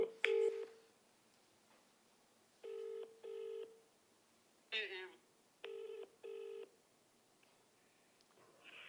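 A phone dialing a call to a well-known Telugu actor: several short bursts of keypad tones in pairs, clear and close, with a brief stretch of indistinct voice between them and a quiet room behind.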